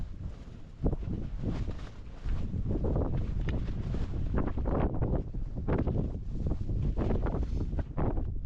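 Strong gusting wind blasts across the microphone outdoors on a hunting trip, roaring in uneven surges that buffet the sound throughout.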